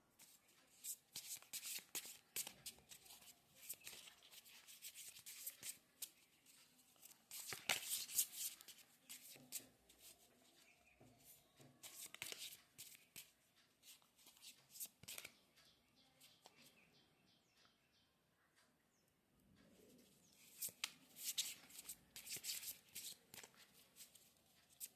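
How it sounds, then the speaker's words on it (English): Oracle cards being shuffled by hand, faint riffling bursts in irregular clusters with quiet gaps between them, the crisp flutters recurring several times at a low level. "let me just shuffle and get this done."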